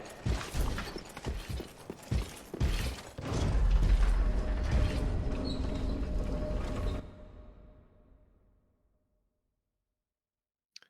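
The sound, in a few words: elevator moving in the video game Dark Souls 3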